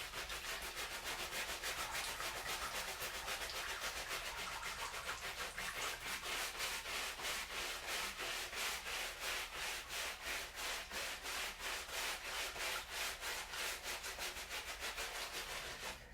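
Rhythmic scrubbing of skin with a brush in a tub, a steady run of evenly spaced rasping strokes that continue without a break, close and quiet.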